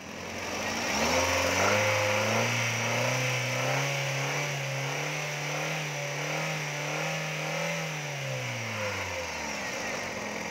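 A 2005 Chevrolet Lacetti CDX engine revs up, its tone climbing, holding high for several seconds, then falling back to idle. It is close and loud, with no talk over it.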